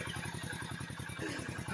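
A motorcycle engine idles nearby in the Thal desert region of Pakistan. Its exhaust putters in an even, rapid rhythm at a steady moderate level, with no speech over it.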